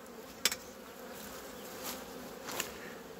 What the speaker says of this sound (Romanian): sunt albine locale.